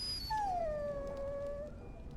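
Dog in the video game Dragon Age: Origins, giving one drawn-out, high falling whimper that almost becomes a howl, clear against a quiet background with no talking.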